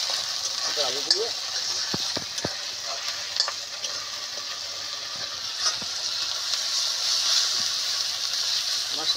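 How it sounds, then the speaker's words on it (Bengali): Masala spice paste for Bhola fish curry sizzles and fries in a pan with scattered stirring clicks and scrapes, a steady close hiss running throughout. "মশলাটাকে আমি ভালো করে কষে নেব।"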